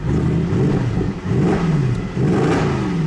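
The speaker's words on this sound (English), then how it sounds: "the sound that V8 makes is just incredible" A deep, throaty V8 engine of a 2009 Mercedes-Benz C63 AMG revs up and down nearby, its rumble rising and falling in a couple of strong surges.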